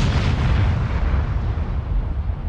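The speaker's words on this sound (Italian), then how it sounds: "Adesso è esploso tutto" A computer-generated explosion effect in the style of a Michael Bay action film: a loud, deep rumbling blast that rolls on steadily for a couple of seconds with no voices.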